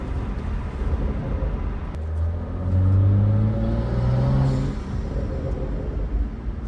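A BMW F30 with the N55 engine and a Burger Motorsports performance intake revs up, the engine note rising into a louder mid-clip surge before settling back to a steady rumbling idle, close and without talk.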